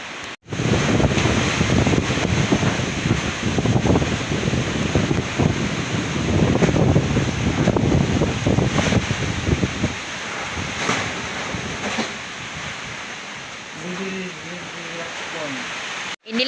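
Strong typhoon wind roars and buffets the microphone in loud gusts, easing toward the end as a voice speaks briefly.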